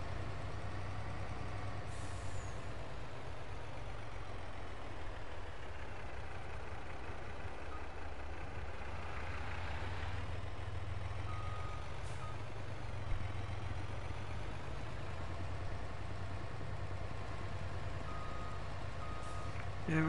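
Delivery truck in the Patrick Farm 2 farming game driving toward a supermarket, a steady low engine drone running throughout with a few faint reversing-style beeps and brief hisses over the top; no talk.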